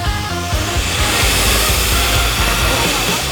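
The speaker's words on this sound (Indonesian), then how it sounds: "Mixer sampai semua adonan tercampur rata." An electric mixer whirs loudly and steadily while beating eggs, sugar and leavening agent into sponge cake batter, a close, continuous whining drone with no pauses and no talk.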